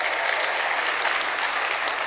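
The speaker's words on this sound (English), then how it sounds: "So give yourself a round of applause." A hall full of teachers at a summit event applauds, a dense, even wash of clapping hands sustained for a couple of seconds with no talking over it.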